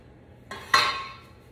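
Squash gnocchi being cut on a board, heard as two short, close knocks of the blade, the second sharper and ringing briefly, with near silence around them.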